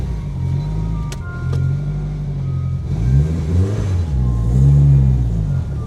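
A Subaru Forester with a newly replaced clutch master cylinder pulls away, its mid-pitched engine rising and falling through steady revving strokes, close and continuous with no talk.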